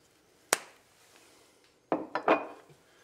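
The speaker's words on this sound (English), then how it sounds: "Take our bar spoon and give it a stir." A bar spoon in a glass of coconut margarita made with blanco tequila and no ice gives one sharp clink, then a brief pause and a quick cluster of three clinks close up.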